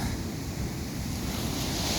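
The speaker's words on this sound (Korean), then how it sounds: "파도가 이렇게 좀 많이 몰려 와 파도가 아예 몰려옵니다" Ocean waves roll in on Myeongpa Beach, a dense, continuous roar of surf mixed with wind buffeting the microphone, loud and close throughout.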